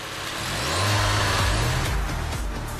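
An Opel Cascada convertible with a 1.6-liter SIDI turbo gasoline engine drives past, its engine note swelling and rising in pitch as it approaches before easing off, a short moderately loud pass.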